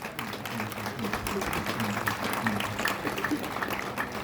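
Audience applause at a ceremony celebrating the International Day of Persons with Disabilities, a steady wash of many hands clapping that runs through the whole stretch with voices mixed in.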